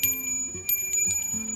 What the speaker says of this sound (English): the bell can ring a little better.